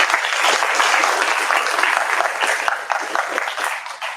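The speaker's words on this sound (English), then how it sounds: "Let's give them a round of applause." Steady applause from a crowd fills the whole stretch, dense and loud, tapering slightly near the end.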